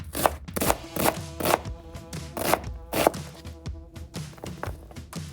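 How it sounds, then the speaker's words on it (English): Onions being chopped with a knife on a cutting board, about a dozen sharp close thunks in an uneven rhythm with short gaps. "I cut up the onions"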